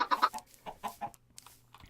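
Chickens in the Minecraft video game cluck in a quick run of short, nasal bursts at close range, then fainter scattered clucks over a low steady hum.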